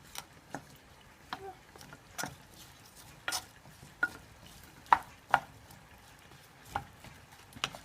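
Seasoned fajita vegetables being stirred with a spoon in a pan, a faint background sizzle broken by sparse, sharp scrapes and taps of the spoon against the pan.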